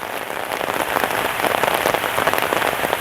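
Heavy rain pours steadily on an outdoor spot by a lotus pond in Phatthalung, Thailand, a loud, dense, even hiss of drops striking surfaces with no voices heard.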